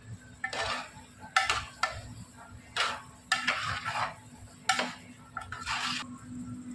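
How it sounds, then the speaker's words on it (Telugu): Gongura chicken with coriander gets mixed in a pot, a series of metallic clinks and scrapes in uneven bursts over a quiet background. "ఇప్పుడు కలుపుకోవాలి."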